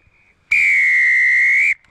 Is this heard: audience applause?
no